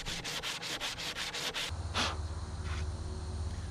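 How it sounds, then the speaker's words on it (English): Sanding epoxy on a mahogany boat rudder, with close, steady abrasive rubbing in quick back-and-forth strokes that shift into a continuous, denser scrape, with no voices. "So I'm going to wipe this off and then give it a good sand down."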